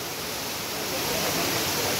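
Steady broadband rush of a waterfall beside a watermelon field, constant and fairly close, with no talking over it.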